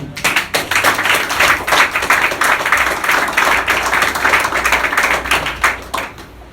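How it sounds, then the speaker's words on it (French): A church congregation claps together in praise, a dense, steady wash of many hands that stays loud for about six seconds before thinning out at the end. "Acclamez pour le Seigneur"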